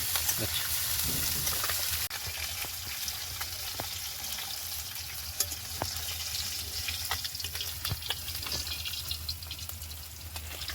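Fish frying in a pan in a home kitchen gives a steady, fairly quiet crackle and hiss with scattered pops, continuous throughout, with no talk.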